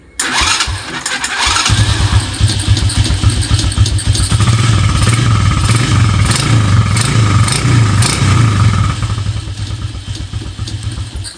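A motorcycle engine fitted with a Domino Honeywell killswitch starts after a short crank and then runs at a steady, loud, throbbing idle close by, with no talking over it.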